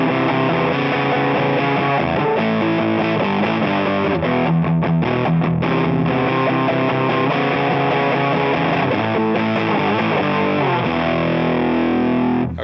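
Distorted electric guitar through a germanium boost pedal plays a dense, continuous riff with thick overdriven chords, loud and sustained throughout with no voices.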